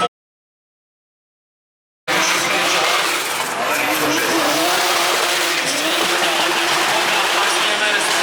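A Toyota Supra race car drifts through a zone at a street drift competition in Ostrava, with loud continuous tire screech and engine roar bursting in after about two seconds of silence.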